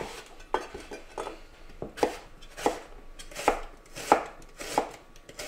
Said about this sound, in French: Pendant ce temps-là, on va émincer les oignons.